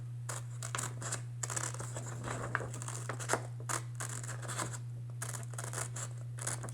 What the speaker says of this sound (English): take your scissors, hold them straight up, and cut around the outside line of your dinosaur head.